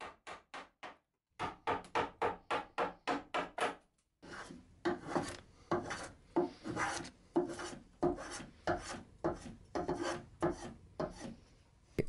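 A curved wooden bedside table rail is carved and shaped by hand. Rhythmic rasping strokes come in steady close bursts, a short run, then a pause, then a longer uneven series.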